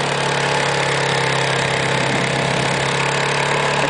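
A tracked vehicle running on snowmobile-style Tiger Trax tracks through deep snow drifts, its engine holding a steady drone with a low hum throughout, continuous and fairly loud with no talking.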